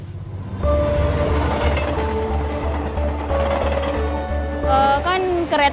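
A passenger train, the first railway in South Sulawesi, rumbles along its rails with a steady low drone and rhythmic clatter, loud and close from on board, with a brief squeal near the end.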